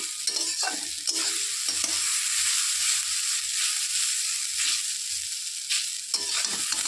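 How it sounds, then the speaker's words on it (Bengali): Pieces of taro fry in a pan over high gas heat while being stirred, a loud, continuous hissing sizzle with repeated scraping strokes of a spatula and no talk. "এভাবে একটু নেড়ে চেড়ে নেব গ্যাসের ভিটটা এখন আমি বাড়িয়ে দিয়েছি"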